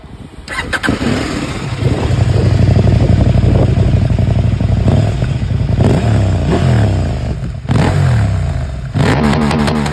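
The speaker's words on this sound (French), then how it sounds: "On va essayer aujourd'hui un 890 Adventure KTM toute feneux." A KTM 890 Adventure motorcycle engine starts and idles loudly and close, with a steady throbbing rumble and a few sharper revs and clattery blips through the whole stretch.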